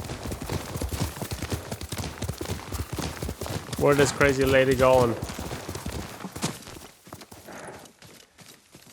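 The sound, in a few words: horse hooves clip-clopping, from a video game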